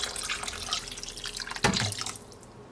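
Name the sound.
water being poured into a soup pot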